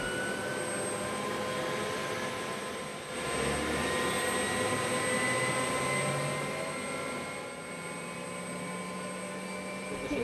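Inside an airplane on a flight out of Gaza, a steady jet engine roar drones continuously for about ten seconds, even and moderately loud with no speech.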